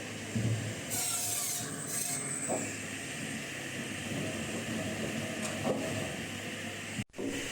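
A high-speed log debarking machine in a plywood veneer production line, a loud continuous mechanical grind and rumble with scraping bursts of wood, steady throughout with a brief drop near the end.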